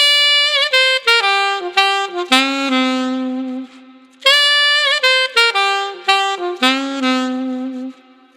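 Saxophone, alto or tenor, plays two phrases of a blues lick, with clean tongued notes and held endings separated by a short pause. The horn is close and solo, with no backing heard.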